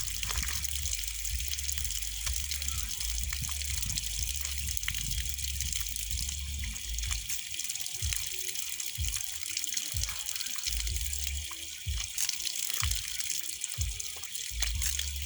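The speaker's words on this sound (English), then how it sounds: "when you are done with the wrist, you wash your mouth." Water pours steadily from a tap during ablution as the mouth is rinsed, a constant close gushing splash with occasional low sloshing and dribbling as hands catch the stream.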